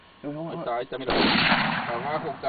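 A loud gunshot blast during a hunt at a hunting club, bursting in after a voice and leaving a rumbling, noisy tail that fades slowly while the speaker keeps talking.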